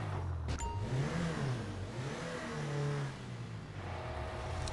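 A car drives in the Grand Theft Auto video game, its engine humming and revving in a steady, continuous drone with rising and falling pitch throughout, and no one talking.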